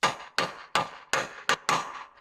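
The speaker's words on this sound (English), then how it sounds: "And just with a hammer and a drift, I'm just going to try to move it." Hammer and drift strike a seized rear wheel bearing hub on a 2001 Mercedes-Benz W210 E55 AMG: six sharp metallic blows in a steady rhythm, each clanging loud and close, then ringing briefly.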